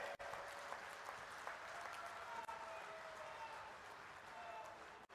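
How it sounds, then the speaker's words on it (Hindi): A large audience at a BJP Shakti Kendra chiefs' conference in Jodhpur, Rajasthan applauds to welcome Amit Shah, a faint, distant, steady roar of clapping with a few brief dips, heard from far off throughout. "जोरदार तालियों के साथ में उनका स्वागत करें"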